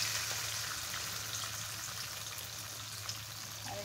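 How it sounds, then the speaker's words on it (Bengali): Eggplant, potato and taro sizzling in hot oil in a pan, a steady, fairly quiet hiss with faint crackles running throughout, no voices. "আমি এখানে বেগুন, আলু, কচুটা ভেজে নেব।"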